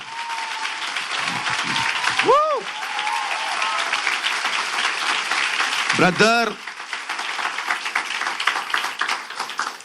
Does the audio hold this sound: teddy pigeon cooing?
no